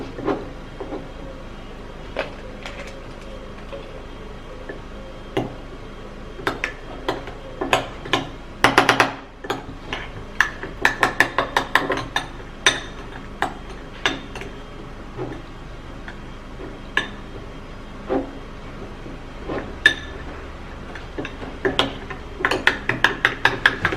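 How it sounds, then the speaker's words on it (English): A spoon stirs a hibiscus flower juice mixture in a container until it thickens, making repeated close clicks, scrapes and taps in an uneven rhythm, with a brief louder clatter partway through. "into this hibiscus flower juice and stir it."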